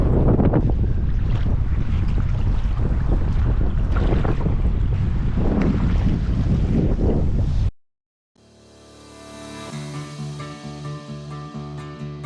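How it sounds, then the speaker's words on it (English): Choppy lake waves slap against a canoe while strong wind buffets the microphone, a loud, continuous rough wash for several seconds before cutting out to a brief quiet break. "The waves are really choppy."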